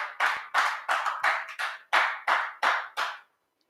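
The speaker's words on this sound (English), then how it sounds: "Give the praise team a round of applause for that wonderful praise session." A church congregation applauding its praise team in nine loud, evenly spaced bursts of clapping that ring briefly in the hall, with no talking.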